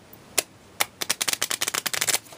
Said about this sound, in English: So now you can also riffle shuffle these